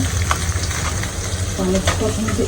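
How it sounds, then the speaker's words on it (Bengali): Steady crackling sizzle of small puti fish frying in hot oil, fairly close, with a voice murmuring faintly underneath toward the end. "অর্ধেকটি মাছ এখানে ভেজে নিচ্ছি"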